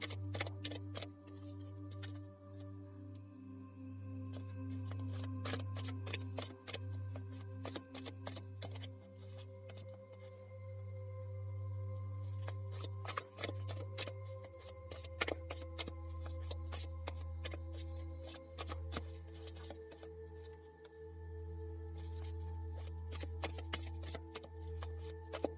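Tarot cards are shuffled and drawn during a pick-a-card reading, with soft repeated riffling and crisp card snaps over a low steady hum, close and fairly quiet, with no talk.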